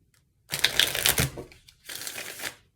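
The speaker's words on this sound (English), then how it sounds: "We'll do one more shuffle." Two quick bursts of cards being shuffled up close, a crisp riffling flutter lasting about a second each, separated by a brief pause.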